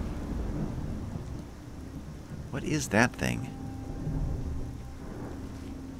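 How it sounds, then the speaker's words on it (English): Thunder rumbles low and steady over constant falling rain in the game Skyrim, with a person talking briefly over the storm partway through. "Ooh, thunder, lightning."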